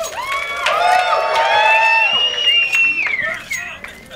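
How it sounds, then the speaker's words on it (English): Esports crowd at a CS:GO match cheering and whooping with sustained, rising shouts, close and loud throughout, with sharp cries and claps near the end. "Okay, then the crowd is hyped."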